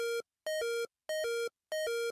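Stream alert chime warning of an ad break in two minutes: a repeating two-tone electronic beep pattern, four short bursts in an even rhythm with gaps between, clear and alone.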